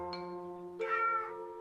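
Two short meows, a faint one followed by a louder one, heard over a soft sustained musical tone.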